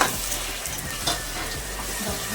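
Tomatoes frying in a pan for chicken pulao give a steady, close sizzle, with a few soft bumps of stirring scattered through and no talking over it.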